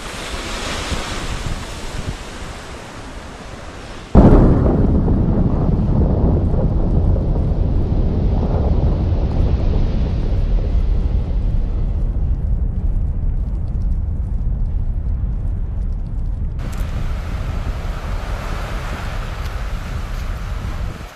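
Krakatau volcano erupts with a deep, sustained roar as a big ash column rises, loud rumbling wash near the shore, heavy wind buffeting the microphone and surf-like noise throughout, jumping sharply louder after a few seconds.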